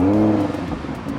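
A car engine catches and settles into a steady idle, loud and close at first and then quieter, a brief burst with no talk.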